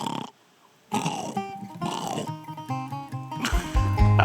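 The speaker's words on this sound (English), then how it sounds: "Why do you think the bucks start croaking more in the morning?" A fallow buck's deep, guttural croaking grunts repeat in bursts after a short silence, close and fairly loud, with harmonic rasping tones.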